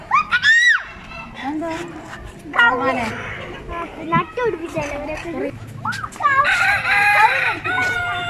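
Mixed breeds of roosters and hens on a farm in Ajman, UAE, crow repeatedly and cluck in loud, overlapping bursts, with people's voices and chatter in the background.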